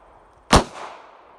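A Ruger LCR revolver chambered in .22 Win Mag fires a single sharp, loud crack at a shooting range, followed by a brief fading echo.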